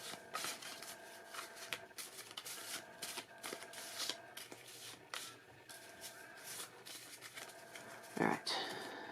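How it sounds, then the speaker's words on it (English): Cards are shuffled in quick riffling bursts that repeat steadily, close and fairly quiet, with no talking. "Quick shuffle."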